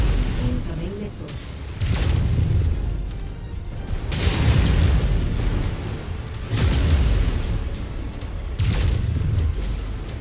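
Missile explosions in the MechWarrior 5 Mercenaries mech combat game boom heavily at regular intervals, roughly every two seconds, loud and rumbling amid continuous battle noise.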